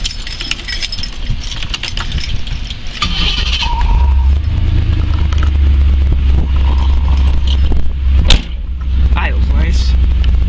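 A 1989 Pontiac Firebird engine settles into a steady, low idle rumble that grows fuller after a few seconds, with clinks of handling and movement close by and a person talking.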